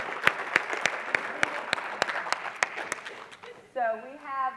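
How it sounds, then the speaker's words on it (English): A round of audience applause at a convention session on the opioid and stimulant crisis: distinct hand claps at a fairly regular pace under a broad wash, fading out before a voice begins speaking. "can we get a round of applause for Kansas and Seth?"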